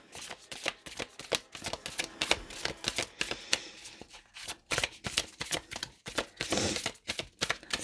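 Tarot cards being shuffled for a spell-card reading, a quick run of crisp riffling bursts and soft slaps repeating through the whole stretch, close and fairly quiet with no talking.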